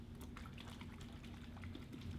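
Sterile water is poured to moisten a paper towel, a quiet liquid trickle and splash at close range with no talking.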